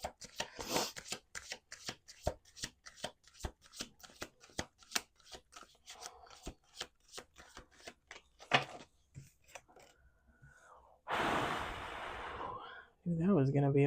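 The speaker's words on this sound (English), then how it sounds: "One more shuffle." A deck of cards is shuffled in quick riffling bursts, a run of sharp rapid flutters and snaps close up, followed by a longer rush and a brief spoken voice at the end.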